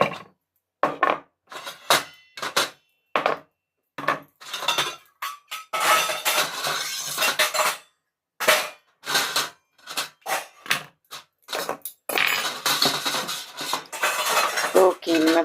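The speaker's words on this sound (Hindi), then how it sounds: "तो बाहर से बर्तन भी धो के आ गई हूँ मैं, और अब रख रहे हैं बर्तनों को।" Washed metal utensils being put away in a home kitchen: a busy run of close, sharp clinks and clatters in irregular bursts separated by brief pauses, with no speech.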